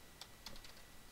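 A few faint, quick keystrokes typing a command on a computer keyboard, soft clicks over a steady low hiss with no voices.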